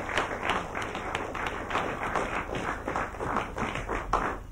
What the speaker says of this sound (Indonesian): Tepuk tangan untuk Bapak Kusmansah